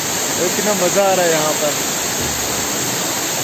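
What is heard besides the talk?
waterfall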